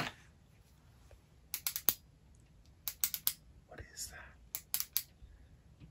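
Sensory fidget sticks click in close, crisp bursts of three or four sharp snaps, separated by short pauses in near silence, with a soft whisper-like voice briefly in between.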